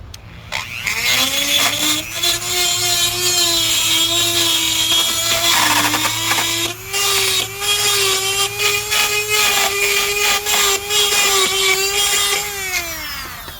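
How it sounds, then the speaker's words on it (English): Dremel rotary tool grinding to widen a hole in the metal roof of a 2019 Honda Pilot, a loud close high-pitched whine held for over ten seconds with slight pitch dips under load. "I'm going to just use this little Dremel tool here to clean up this hole. Just widen it out a little bit."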